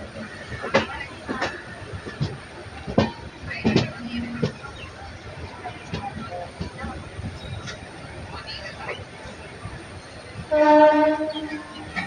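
Jan Shatabdi LHB passenger train running toward Kottayam, a steady rolling rumble with intermittent clanks and knocks, a brief louder tonal burst near the end, voices faintly talking over it.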